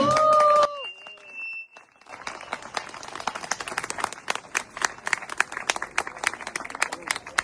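An audience in a hall applauds after a speech, a dense run of many hands clapping that starts after a short sung or spoken tone and a brief pause, then holds steady, fairly close and loud.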